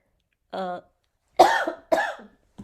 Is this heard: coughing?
yes